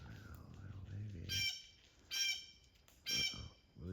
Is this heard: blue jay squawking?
yes